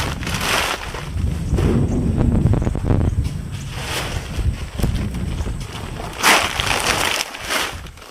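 Gusty wind buffets the microphone on a ranch in broad rumbling waves, with rustling and a brief louder gust near the end, steady and close throughout.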